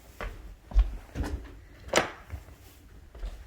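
A car door unlatches and swings open with a few soft clunks and a sharp click, close by, in a quiet setting without talk.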